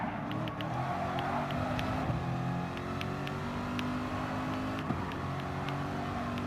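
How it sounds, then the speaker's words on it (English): GT3 race car engines, including a McLaren 650S GT3, drone steadily in a Gran Turismo Sport race, a faint continuous roar with slight pitch shifts as cars shift and pass. "Meanwhile, Burnt_Mexican 215 in the McLaren 650S GT3 passes me. So this is going to get a little bit more slipstream"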